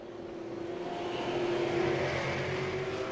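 Race cars roar around a short oval on the final lap of a stock car race, a sustained engine drone that swells slightly as the field approaches, heard from a distance with no talk.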